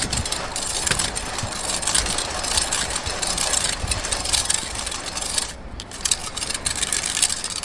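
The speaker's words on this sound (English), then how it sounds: "Well, there's the drivetrain. Works like a charm. Nice and quiet." The chain drivetrain of a DIY short wheelbase recumbent bike spinning in a stand, a continuous close whirring and rattling mechanical rush that holds steady throughout with a brief dip partway through.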